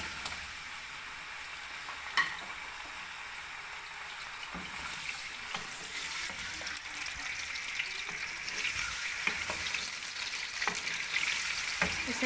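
Chicken pieces fry in hot oil for chicken karahi, a continuous close sizzle with occasional sharp pops and spatters, building slightly louder toward the end with no talking.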